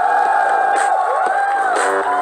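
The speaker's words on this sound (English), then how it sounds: "please join me to welcome our CEO on stage with a huge round of applause, Mr. Madhav" A launch event audience for the Realme 3 cheers loudly, with sustained whoops and shouting from a crowd, close and continuous for about two seconds.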